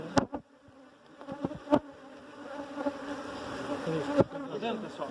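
Honeybees buzz around a hive in a dense, continuous drone, close and swelling in loudness, with a few sharp knocks near the start and end.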